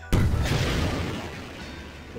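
A large explosion in a video game goes off with a sudden loud boom, then a long rumbling decay that fades over about two seconds, with no talk over it.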